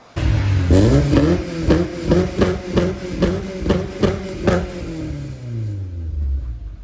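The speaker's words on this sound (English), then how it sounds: "Just a full custom system, mate. I like the exhaust." A Ford Fiesta race car with a full custom exhaust revs hard nearby, its engine rising and falling through a quick series of sharp, rhythmic blips before settling back to a lower rumble.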